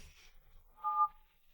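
A few faint touch-tone beeps from a phone keypad, short and quiet, in an otherwise near-silent room.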